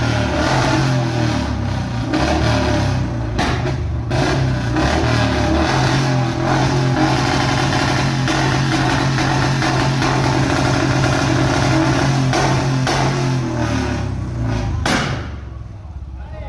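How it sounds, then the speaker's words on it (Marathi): A motorcycle engine roars and revs continuously while a few sharp, firecracker-like backfire bangs crack out of its silencer. The noise is loud and close, then drops away with a final bang near the end. "या बहादराने सायलेन्सर मध्ये कशा प्रकारे फटाके फोडले होते व कर्णकर्कश आवाज काढला होता"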